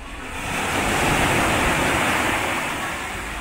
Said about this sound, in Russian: Смотри, какая волна идет.